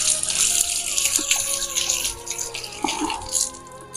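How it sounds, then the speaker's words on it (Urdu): Tap water runs steadily from a faucet during ablution before prayer, a close, constant splashing rush with small shifts as hands move through the stream. "آپ ایک ہاتھ سے پانی کو کھولیں اور دوسرے ہاتھ سے بند کر سکتے ہیں"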